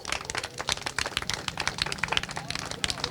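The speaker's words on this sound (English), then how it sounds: "Huge round of applause, please, Lewis Wirral." Crowd applause at a British Kart Championships podium ceremony at Larkhall for the third-place IAME Cadet driver; moderate, steady clapping with overlapping hand claps throughout.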